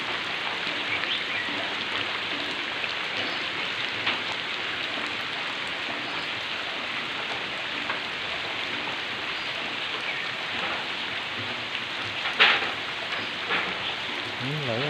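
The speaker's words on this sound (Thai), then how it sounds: "โอ้ดูสิฝนตกอย่างมากเลย" Heavy rain pours down in a dense, continuous hiss, with water running off faster than it can drain and one sharper splash near the end.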